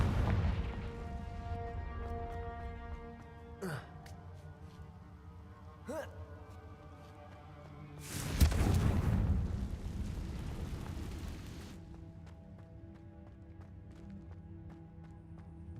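The Confringo fire spell is cast in Hogwarts Legacy: a heavy blast bursts out partway through, loud and rumbling for a few seconds, after two short sharp hits, with game sounds and a steady low drone around it.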